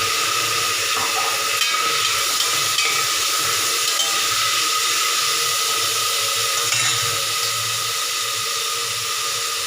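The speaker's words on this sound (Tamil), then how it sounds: "பொன்னிறமாக வதங்கி வெங்காயம் வெங்காயம் நல்லா வதங்கிடுச்சு" Onions fry in an oily pan for goat head curry, giving a continuous bright sizzle with occasional stirring scrapes, close and even in level throughout.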